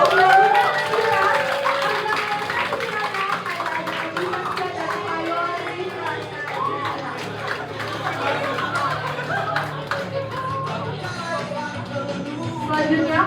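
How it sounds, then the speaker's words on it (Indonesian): Audience at a school musical drama performance clapping and chattering for the dance team, a continuous loud crowd wash of applause mixed with talk and laughter. "Kita kasih tepuk tangan yang meriah untuk tim dancer"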